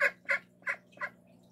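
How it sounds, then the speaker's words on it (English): Duck recovering from a broken wing quacks four times, short raspy calls close by and fairly faint, evenly spaced about a third of a second apart. "You got your quack back."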